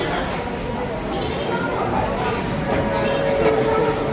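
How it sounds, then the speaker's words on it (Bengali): A metro train pulls into an underground station with a continuous rumbling rail roar and a faint squeal, while crowd chatter and voices run throughout. "গন্তব্যের ট্রেন চলে আসতে পারে।"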